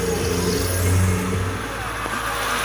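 Honda Titan 160 motorcycle from 2019 running in gear with the clutch held, a steady mid-pitched engine hum carrying a faint odd whine, close and continuous, without talk.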